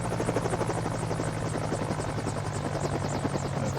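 A Mini 500 helicopter's engine and rotor drone loudly and steadily in Microsoft Flight Simulator 2020, a dense buzzing roar with a rapid rhythmic chop and no voices.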